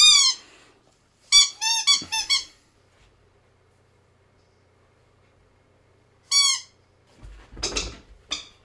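A squeaky toy ball being chewed by Marla gives sharp, high squeaks in quick bursts of two or three, separated by silent pauses, ending with a muffled thump.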